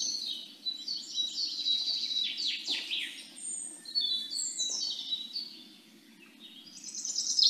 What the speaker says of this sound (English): birdsong again.